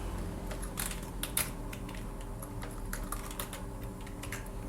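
Fingers type on a computer keyboard in a quick, uneven run of close, clicky keystrokes over a low steady background hum.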